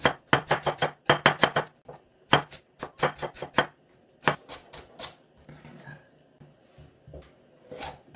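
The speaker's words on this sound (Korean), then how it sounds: "물리니까 야채들이 최대한 곱게 썰어야 됩니다" A knife chops vegetables finely on a board, including onion and carrot, in quick bursts of crisp, close taps separated by short pauses, with a faint voice in the background.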